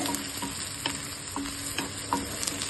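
Onions and curry leaves sizzling in a pan, a continuous fry hiss broken by regular stirring scrapes roughly every half second, close and moderately loud with no talking.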